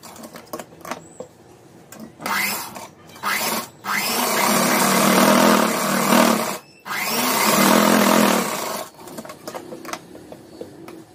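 A sewing machine stitches a coat in several bursts of loud, steady whirring, separated by brief pauses and lighter clicks, with no talking.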